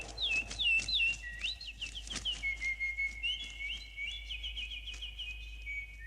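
Bird chirping and whistling in a bright, close series of tweets and trills, steady throughout over a low background hum, with no one speaking.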